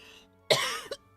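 A single harsh cough with a throat-clearing rasp bursts out close and loud, followed by a short second catch, then quiet.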